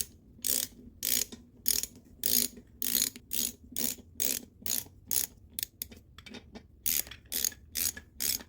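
A ratchet seats the intake manifold bolts on a 1972 Corvette L48 small-block Chevy, with about a dozen crisp, evenly spaced bursts of clicking close by and no talk.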